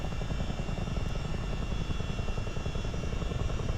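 A steady, dense roar of CH-47 Chinook helicopter engine and rotor noise fills the rear cabin, loud and unbroken throughout with no voices.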